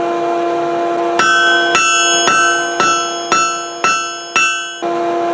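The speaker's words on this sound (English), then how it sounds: "when I'm hammering away at the metal" A hammer strikes hot steel on an anvil while forging a set of blacksmith tongs: seven loud, ringing metallic blows at a steady, unhurried rhythm, each ring decaying before the next.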